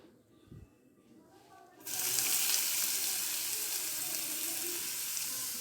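Chopped onion dropped into hot oil for a vegetable roll, bursting into a loud, steady sizzle that carries on after a brief quiet moment beforehand.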